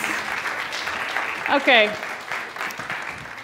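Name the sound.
applause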